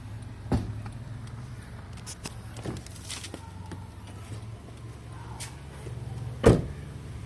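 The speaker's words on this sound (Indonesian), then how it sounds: "kita buka kaca bagian pengemudi yang sudah auto up and down" The driver's auto up-and-down power window of a 2011 Honda CR-V 2.4L runs with a steady low motor hum, marked by a soft thump at the start and a sharper knock as it stops near the end.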